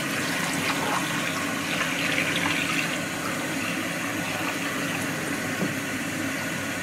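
Running water rinses darkroom chemistry down a drain, a steady, close, broadband rush that flows without a break and carries no voices.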